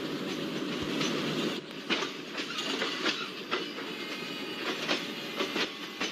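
Garib Rath Express pulling slowly out of Kochuveli station in Trivandrum, heard from on board: a steady rumble with repeated clickety-clack of wheels over rail joints and an occasional faint squeal.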